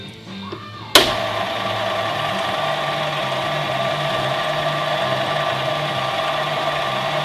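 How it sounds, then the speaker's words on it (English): A lathe starts with a sharp click and then runs forward, turning the locking ring of a Minolta MC-Rokkor PF 58mm f/1.4 lens. A steady, close motor hum and whine continues unbroken with no talk. "I'm gonna do a rotation which is forward on the lathe this way"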